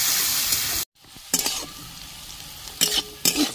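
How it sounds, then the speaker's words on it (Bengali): Bitter gourd and potatoes fry in a pan with a steady close sizzle, broken by a brief cut and then several sharp bursts of stirring and scraping as the pieces are turned. "উচ্ছে আলু লাল করে ভাজা হয়ে গেছে দেখুন বন্ধুরা"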